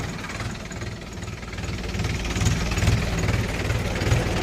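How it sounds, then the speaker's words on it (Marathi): Diesel engine of a Mahindra 585 DI tractor running in high first gear, a steady low knocking chug that swells slightly louder partway through, with no talking. "हाय फर्स्टवर चाललेला आहे ट्रॅक्टर."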